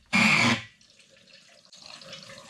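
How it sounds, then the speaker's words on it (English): Water gushes out in a loud burst from a motorhome drain valve underneath the van, then dies down to a softer, uneven trickle and splatter. "you can hear the water now. It's pouring out underneath the van."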